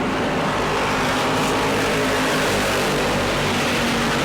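Bomber class race cars, Crown Victorias and a Pontiac, roar around the New Smyrna track in a dense, continuous engine drone that stays loud and steady throughout, with no voices.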